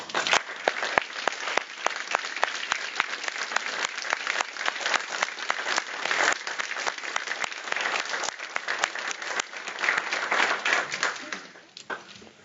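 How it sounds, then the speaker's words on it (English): Graduation ceremony audience applauds families and friends in a steady sustained burst of many hands clapping that fades out near the end. "join me in applauding and thanking your friends and your family who have been there for you"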